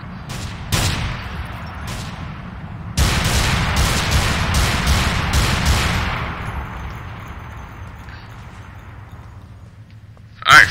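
A suspect opens fire in the LCPDFR police mod game: two loud separate gunshots, then a rapid volley of about eight close shots, with the noise fading into a low ambient rumble before a final sharp sound.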